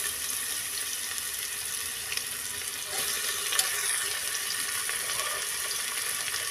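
Bamboo shoot and lentils frying in hot oil with garlic in a cooker, a soft continuous sizzle and hiss with a few faint clinks, quiet and steady throughout.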